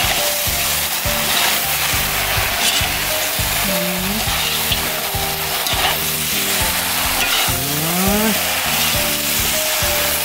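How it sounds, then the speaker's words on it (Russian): Pork ribs sizzling and frying in a kazan as they are stirred together with sweet paprika, a steady dense hiss with scraping stirs throughout, no talking. "Это пока все перемешаем хорошенько."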